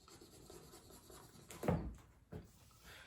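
A pen scratches across paper in a few short strokes, faint and close, with one louder scrape in the middle and a smaller one after it.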